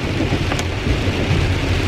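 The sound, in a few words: heavy rain falling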